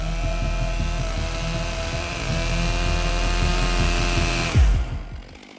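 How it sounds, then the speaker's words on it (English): A heavy chainsaw cutting a log drones steadily at high revs, then cuts off abruptly near the end. "the heavy chainsaw is going to make things difficult"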